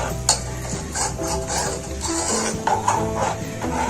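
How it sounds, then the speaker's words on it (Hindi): Spoon stirring Kashmiri pink chai with dry milk powder in a pot over a low flame, a continuous close, fairly loud swirl of scraping and soft clinks with a few sharper taps along the way. "तो हम ऐसे चम्मच से हिलाते जाएंगे ताकि ये दूध जो ड्राई डाला है वो अच्छे से इसमें मिक्स हो जाए"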